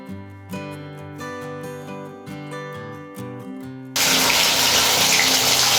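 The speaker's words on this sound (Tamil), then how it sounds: "நம்ம இந்த கலவான் மீனை வறுத்துக்கலாம்." Kalava fish drop into hot oil, and a loud, steady, close sizzle suddenly takes over after a few seconds of tonal music.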